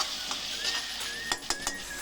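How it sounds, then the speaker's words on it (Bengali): Ginger-garlic masala with tomato puree frying in oil, stirred in a pan: a soft steady sizzle with a few light scrapes and clinks of the spoon, close and fairly quiet. "আবার মশলাটা কষাবো তেল ছাড়া পর্যন্ত।"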